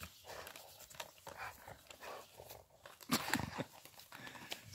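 Dogs nose and knock about flower pots, giving scattered scraping, thumping and panting sounds at moderate distance, louder clattering bursts in the middle, over steady background noise.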